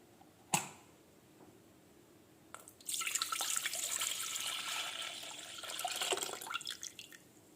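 Cold milk, about 1.5 kilograms, poured into a pot for a sabudana custard drink: after a single knock and a quiet pause, a steady close liquid pour runs for several seconds, swelling slightly near the end, with no speech.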